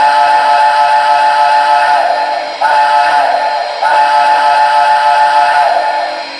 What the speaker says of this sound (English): Here's the normal whistle.